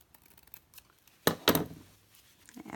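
Large Tim Holtz scissors snip through glued paper up close, trimming the bottom edge in two sharp cuts in quick succession, followed by quieter rustling.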